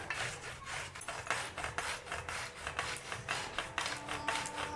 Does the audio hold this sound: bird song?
no